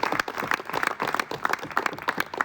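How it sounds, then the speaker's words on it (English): A town hall crowd in Claremorris applauds candidates at a public meeting, a dense, steady patter of many hands clapping at fairly close range with no talk. "I think that they deserve a round of applause from all of you here"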